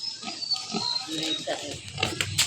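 A pig grunts and oinks close by in short, rough bursts, while someone talks over the animal's noises.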